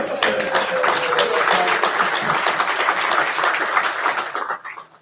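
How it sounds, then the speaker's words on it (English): An audience at an oil and gas industry leadership panel bursts into applause, a full, dense round of clapping held steady for several seconds before fading out at the end. "let's give them a round of applause"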